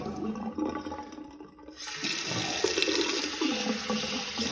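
Water gushes from a newly installed sink faucet, starting abruptly after a quieter moment and then running steadily and strongly, close and loud, with no voices.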